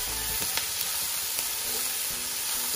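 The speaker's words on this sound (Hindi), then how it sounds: "लहसुन अदरक का मैंने इसमें पेस्ट ऐड किया, हल्का सा इसको भूनना है" Garlic and ginger paste frying lightly in a pan while chicken chow mein is cooked, giving a soft, steady sizzle and hiss with a few small stirring taps, heard alone.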